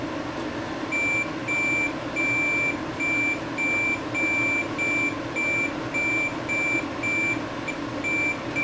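A multimeter in continuity mode beeps repeatedly while probing the flex cable contacts of a Pioneer PD-TM2 18-disc CD changer, a steady pattern of short electronic tones over a constant background hum.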